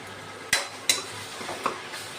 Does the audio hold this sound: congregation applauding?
no